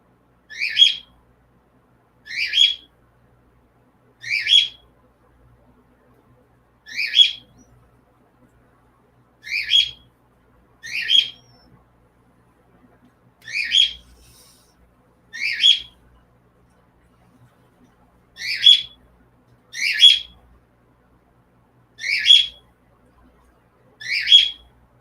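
A pet bird gives short, sharp chirps and squawks indoors, repeated in single and paired bursts every second or two against near silence.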